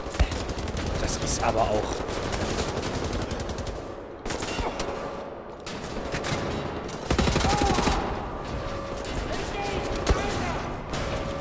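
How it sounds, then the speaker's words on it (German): Gunfire in the video game Wolfenstein: The New Order: dense, rapid automatic bursts and loud shots run nearly throughout, with short lulls, while someone talks in German over them. "Hallo, hört auf zu schießen."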